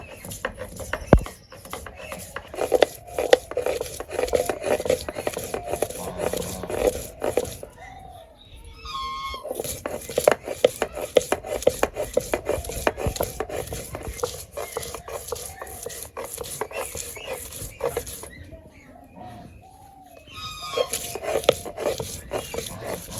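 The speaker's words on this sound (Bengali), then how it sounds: "এখন বাইটা নেবো।" Onion and garlic crushed on a grinding stone in a Bangladeshi village kitchen, a repeated rough rubbing and scraping in steady strokes, fairly close, pausing briefly twice.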